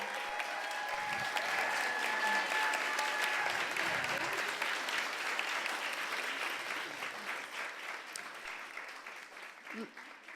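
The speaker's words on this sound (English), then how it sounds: "we want to give a round of applause to our panelists" A live audience in Oakland, California claps for a panel of speakers, a broad, steady roar of applause that holds for several seconds and gradually fades toward the end, fairly quiet overall.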